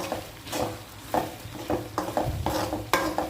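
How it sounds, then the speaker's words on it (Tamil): Spices sautéed in a pan, heard as a sizzle under repeated spatula strokes scraping and tapping the pan in an uneven rhythm, close up, with no talk. "இதையும் இந்த பச்சை வாசம் போகிற அளவுக்கு நம்ம நல்லா வதக்கிப்போம்"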